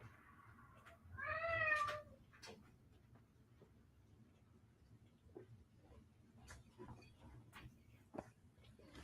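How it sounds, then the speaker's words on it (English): A house cat gives a short, wavering yowl early on, then only faint scattered knocks and shuffles follow in a quiet room. "my cats are trying to fight now too"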